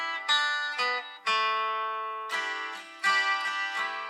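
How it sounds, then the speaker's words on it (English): High-strung Nashville-tuned acoustic guitar, shimmering and bright, with sparse picked chords that ring and decay between strums, heard alone and close in a mix. "And then we've got a high-strung Nashville acoustic guitar that sounds like this."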